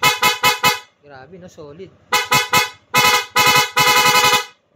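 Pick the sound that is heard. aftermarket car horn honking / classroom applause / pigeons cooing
aftermarket car horn honking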